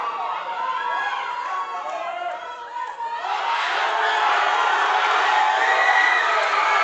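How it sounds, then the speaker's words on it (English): Crowd cheering at a powerlifting championship deadlift attempt, loud continuous shouting and whooping that swells and grows fuller halfway through, with a few voices rising above the roar. "Crowd's cheering."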